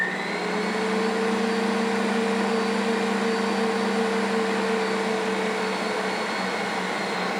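A stand mixer kneads sourdough dinner roll dough with a steady, loud motor whine holding a constant pitch throughout, running alone without talk.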